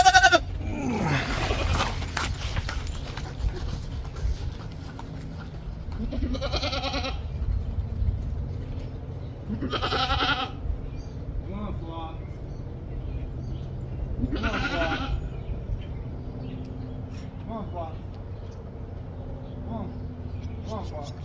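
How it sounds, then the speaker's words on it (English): Goats on a small farm bleat in several separate calls spaced a few seconds apart, close and fairly loud, some wavering and drawn out, with quieter outdoor background between them. "I'm gonna have to catch these goats, I guess."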